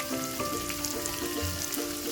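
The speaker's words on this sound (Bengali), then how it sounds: "সেই পেঁয়াজগুলো তেলের মধ্যে দিয়ে দেব" Sliced onions hit hot oil and fry, a soft, even crackle and patter of sizzling with faint tonal hum underneath, moderately quiet and steady throughout, no speech.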